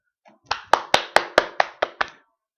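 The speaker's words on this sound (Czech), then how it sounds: "Potlesk." Eight sharp, evenly spaced hand claps from one or two people, close and distinct against near silence.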